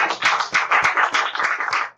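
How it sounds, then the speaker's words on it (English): A round of applause from an audience at a Peoria Forward community presentation on the ASU Grand Shoppe Project, steady clapping with rhythmic peaks filling the whole stretch, no voices over it. "One more round of applause for Adam virtually."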